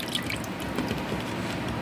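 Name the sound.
churning curd with water to make buttermilk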